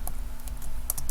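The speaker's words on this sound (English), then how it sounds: "Let's just type anything." Quick, light keystrokes on a computer keyboard, with scattered soft clicks that cluster into a brief flurry near the end, close and fairly quiet against a low background hum.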